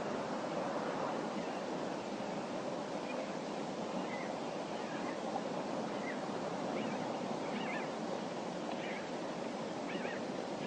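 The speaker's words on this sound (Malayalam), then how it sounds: "ഈ കാണുന്നതാണ് തൊടുപുഴയാറ് ഒഴുകി പോകുന്നത്" The Thodupuzha river flowing near Triveni, a broad, steady rush of water that stays constant and even throughout, with no voices over it.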